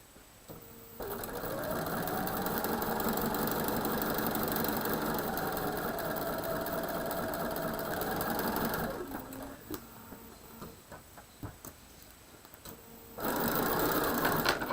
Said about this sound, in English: I want to sew on this side because I don't want to come into that double at that point